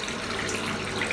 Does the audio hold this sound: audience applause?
no